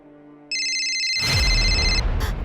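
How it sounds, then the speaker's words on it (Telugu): A phone ringtone chimes loudly and steadily, then a burst of rustling noise and a faint voice cut in before it stops. "ఆది ఫోన్ చేస్తున్నాడు"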